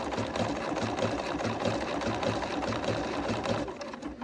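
A sewing machine with a walking foot runs a blanket stitch at 3.0 by 3.0 while making a quilt, a close, steady mechanical whirr with a rapid regular needle beat and no talk.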